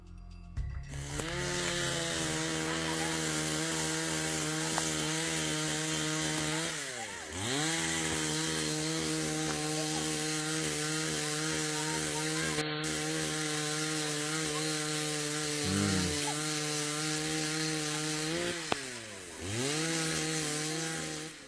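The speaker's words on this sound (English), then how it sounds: "the chainsaw that can be heard in the background is someone trying to scare off whatever this creature is" A chainsaw runs continuously for a long stretch, its droning motor dipping and revving back up twice, heard from a moderate distance with no talking.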